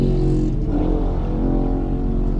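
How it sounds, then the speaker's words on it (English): Loud, steady engine drone of a motorcycle revving continuously close by, with a low rumbling tone and no speech over it. "Whose motorcycle sounds like that?"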